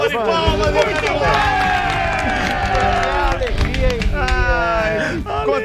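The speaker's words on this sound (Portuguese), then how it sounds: "Salva de palmas, muito bem!" A studio crowd on a live football radio show claps and cheers in a lively burst, dense and continuous, with loud overlapping voices talking and shouting over the top throughout.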